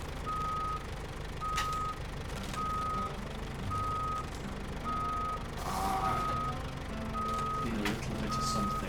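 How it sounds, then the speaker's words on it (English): Rescue truck reversing in the SnowRunner video game, its backup alarm giving about eight evenly spaced beeps over a steady engine rumble, clear and moderately loud with no talk. "Bring a rescue truck in here to free this guy."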